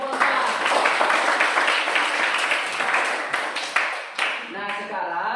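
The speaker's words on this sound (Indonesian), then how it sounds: "mari kita berikan tepuk tangan untuk kelompok" A classroom full of students applauds for group 4 after its presentation, a dense and steady burst of clapping that lasts throughout and fades slightly near the end, with voices mixed in.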